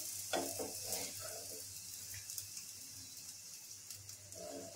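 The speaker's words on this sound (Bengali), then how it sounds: "ঠিক এইভাবে আমি পরোটাগুলোকে ভেজে নেব, এই হালকাভাবে" Aloo paratha cooks lightly in a pan, with a soft, steady sizzle behind brief stirring and scraping bursts near the start and again at the end.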